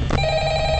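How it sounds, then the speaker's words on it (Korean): A telephone rings in the horror game Five Nights at Freddy's, a short steady electronic ring tone over a low background hum, brief and moderately loud. "전화, 그래, 전화하네."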